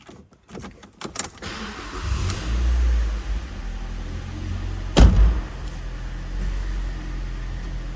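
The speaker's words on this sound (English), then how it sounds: "quite a free revving engine" A Mazda MX-5 sports car's engine cranks and catches, settles into a close, steady idle, then gives a single sharp rev around the midpoint before returning to idle.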